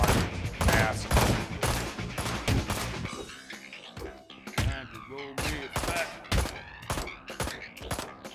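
Repeated gunshots from a shootout in the Ride to Hell: Retribution video game, loud sharp cracks firing in rapid, uneven bursts over about eight seconds, with a brief lull in the middle.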